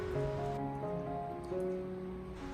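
Duck wings are rinsed with clean water in a dish, a soft continuous splashing and trickling of water close by, with no talking.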